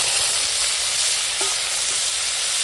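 Pumpkin and chickpeas sizzle in hot oil tempered with five-spice, dried red chilli and bay leaf, a loud, steady, unbroken hiss close by with no voices.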